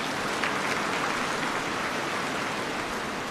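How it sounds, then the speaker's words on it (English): An audience at a summit ceremony claps in a dense, continuous wash of applause, loud and steady throughout with no voices standing out. "I think she deserves a second round of applause"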